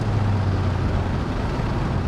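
A Porsche 928S engine idles at about 1,200 rpm while the car rolls along, a steady, loud low hum with a droning tone underneath.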